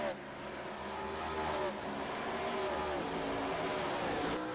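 Race cars in an oval-track racing video game roar in a steady, dense engine drone that swells slightly as the pack circles, with no pauses.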